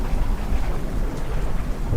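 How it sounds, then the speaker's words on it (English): Thunder from a close lightning strike during a storm, a dense low rumble under steady rain hitting surfaces, loud and continuous with no voices. "The lightning came closer and closer. It wasn't just a distant rumble anymore."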